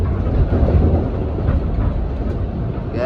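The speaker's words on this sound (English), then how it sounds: "We're on the choo-choo." Interior rumble of a Kawasaki M8 commuter train riding the Harlem Line, a steady low-frequency roar with rolling rail noise, continuous and close, no talk.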